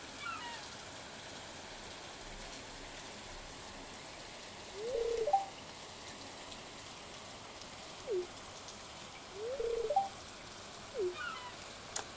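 Steady rain falling at the ocean shore in the Stardew Valley video game, a soft continuous hiss of raindrops with a few faint chirps popping up briefly over it.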